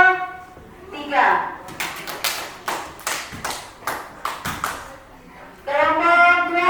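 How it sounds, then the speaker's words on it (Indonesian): A class applauds group 3 with a brisk burst of sharp, uneven hand claps lasting a few seconds, with a voice speaking just before and just after. "tepuk tangan untuk kelompok 3"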